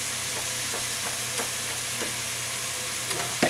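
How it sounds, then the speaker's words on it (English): Onions sautéing in a pot for a beef and butternut squash stew, a steady close sizzle with scraping strokes of a stirring spoon recurring throughout. "So this will take about 2 minutes to saute to get these onions nice and soft."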